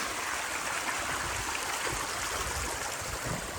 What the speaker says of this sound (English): that never stops and overflows, and then creates the stream going down